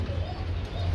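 Pigeons kept in pairs among many birds for sale give low, throaty cooing close by, a soft continuous murmur over a brief moment.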